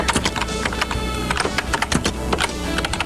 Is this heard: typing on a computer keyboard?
yes